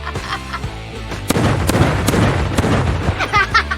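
Several sharp balloon pops burst in quick succession over a loud, busy background of music and noise.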